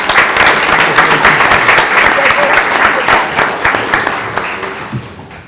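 A school board meeting audience applauds commended students with sustained, dense clapping throughout, tapering slightly toward the end, with faint voices mixed in.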